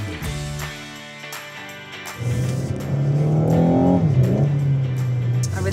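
A Renault Megane accelerating hard from the cabin, the engine note climbing through the revs, dropping at a gearshift, then rising again into a steady loud drone, with no talk.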